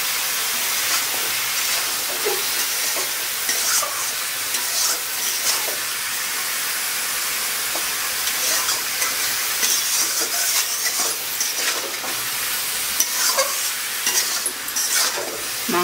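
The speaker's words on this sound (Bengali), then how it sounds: "মাংসটা একটু ভাজা ভাজা করে নেব।" Homestyle chicken curry meat frying in a pan with turmeric and spices, a loud, dense, continuous sizzle with scraping stirring strokes throughout and no talking.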